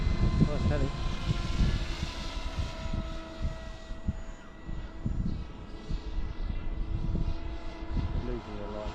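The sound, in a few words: radio-controlled helicopter flying in wind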